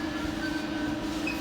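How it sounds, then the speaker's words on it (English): A DLR light railway train riding out of Stratford toward Canary Wharf on an evening journey, with a steady close interior rumble and a low motor hum running continuously throughout. "I'm about to ride the DLR 72 Canary Wharf from Stratford"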